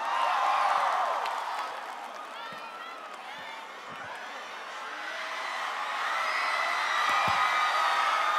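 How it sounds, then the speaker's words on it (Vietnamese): Audience at a large Vietnamese concert festival clapping and cheering in a loud, sustained wash of applause that swells again toward the end, with whoops in the crowd. "Một tràng pháo tay cho Amy được không ạ?"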